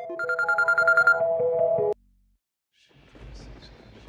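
A mobile phone ringtone plays loudly for about two seconds in a repeating pulsed melody, then cuts off abruptly, followed by silence and faint low background noise.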